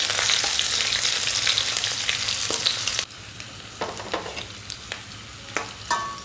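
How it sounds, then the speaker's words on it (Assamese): Chopped onion and dried red chillies fry in mustard oil in a wok with a bay leaf. A loud, close sizzle fades to a softer crackle, broken by scattered spatula scrapes and taps. "এতিয়া মই এইখিনি অলপ সময়ৰ বাবে ভাজি লম।"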